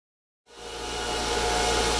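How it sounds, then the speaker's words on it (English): Silence gives way to a loud, broadband roar of Antminer crypto mining machine fans that swells up and holds steady, a dense whooshing hum close by. "I'm just kind of doing a quick video here on how loud these miners can get"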